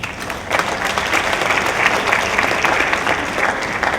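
Audience clapping on an education talk program, starting softer then swelling after a half second into steady, moderately loud applause that continues evenly to the end.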